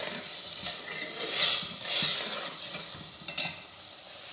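Grated tomatoes being stirred in a cooking pan for a lauki kofta curry, giving a few soft scraping swishes and light clinks over a faint sizzle, close and moderately quiet, with no one speaking.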